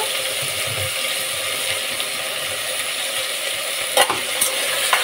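Cut potatoes fry in a pan of oil along with tomatoes, giving off a loud, continuous close sizzle and hiss, broken near the end by a couple of quick utensil scrapes or clinks.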